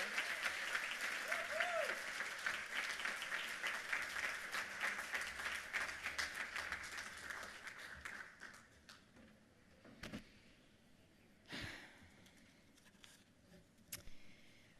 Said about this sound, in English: we want to give another round of applause